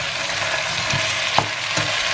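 Jamaican curry chicken sizzles and fries in a pot, with a steady hiss and a few louder stirring bursts, close and alone without talk.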